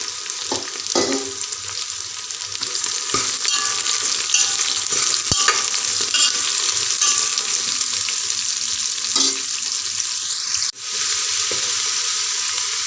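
Bottle gourd pieces fry with a steady sizzle in a pan, stirred now and then with scraping clatters and a sharp clink near the end; no one talks.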